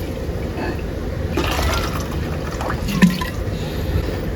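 Hot water is poured into a cooking pot while making sinigang, a Filipino soup, giving a soft, steady splashing and trickling under kitchen background noise, with a brief louder splash partway through.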